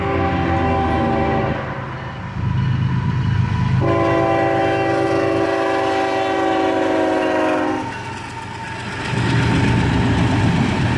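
Norfolk Southern northbound auto-rack freight train led by a single ES44AC locomotive, with a loud, close, multi-note horn sounding in long blasts over the rumble of passing railcars.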